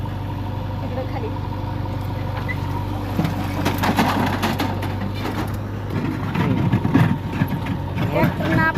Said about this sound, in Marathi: ट्रॅक्टरनं आपलं इकडचं मटेरियल तिकडं टाकायला लागला.